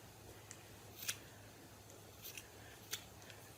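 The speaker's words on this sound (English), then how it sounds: "I'm just going to take my scissors and cut these off so they are fairly even" A few sharp scissor snips cutting yarn, spaced irregularly against a quiet low hum, each a brief crisp click of blades closing.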